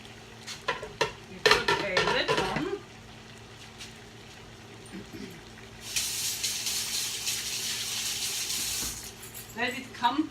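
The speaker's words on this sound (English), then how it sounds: "You put a lid on" Metal pots and utensils clatter near the start, then a lid settles onto a cooking pot of kohlrabi, after which a steady sizzling simmer rises and holds for several seconds.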